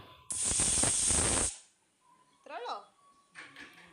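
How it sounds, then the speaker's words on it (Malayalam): A pressure cooker of chicken biryani lets out one loud, close burst of hissing steam for about a second, then cuts off. A voice speaks briefly afterward. "ഒറ്റ വിസിൽ വന്നിട്ടുണ്ട്"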